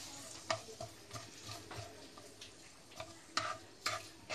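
Onion softening in a pan for a children's recipe: a faint, quiet sizzle runs under irregular scraping and stirring taps from a spoon against the pan.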